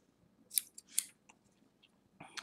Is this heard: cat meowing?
no